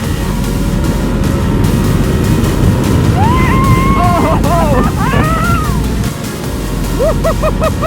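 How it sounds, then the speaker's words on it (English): A Ducati motorcycle engine while riding, a loud constant roar with rising and falling revs and gear changes, captured close on the move with heavy wind rumble. "riding a Ducati for the very first time"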